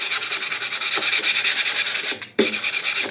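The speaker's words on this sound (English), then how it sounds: "right now I'm just scuff sanding it" Sandpaper scuff sanding cured epoxy pore filler on guitar wood, rapid rhythmic back-and-forth rasping strokes, close and loud, with one brief pause before the strokes resume.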